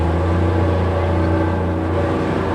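Four-wheel drive vehicle engine in a 1987 driving competition, a steady low droning hum held throughout, moderately loud, with no voices.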